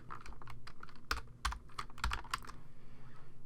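Rapid typing on a computer keyboard while entering text into a Photoshop Elements guided edit, a steady run of close, crisp key clicks with a few heavier strokes, with no voices.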